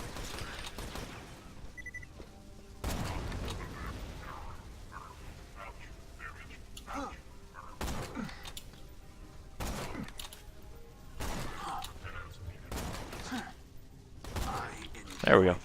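Gunfire while shooting an enemy in the Borderlands-style game Reb0rn Zer0, a handful of short bursts of shots spread across the stretch over steady game noise and clanking mechanisms, with a player talking in between.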